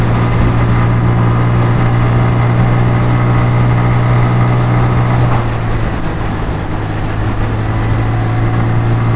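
Steady engine drone from a scooter on a ride home, a constant low hum with a strong tonal band running unbroken throughout, loud and close with no talking.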